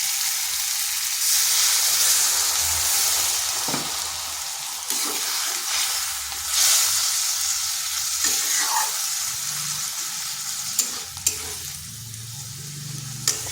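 Water hits a pan of frying kakrol (teasel gourd), setting off a loud, bright sizzle that holds steady and slowly eases, with a few sharp utensil taps toward the end.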